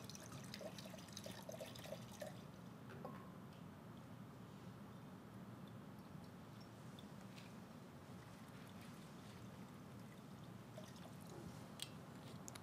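Liquid alcohol poured into a measuring jar for a home herbal preparation, a steady trickling pour with faint drips, running continuously at close range with no talk.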